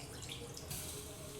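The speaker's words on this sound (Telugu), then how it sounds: "వాటర్ అయితే వేసేస్తా" Water runs and splashes into a pot being readied for cooking rice, a soft, steady trickle with a slight change in tone partway through, faint and close.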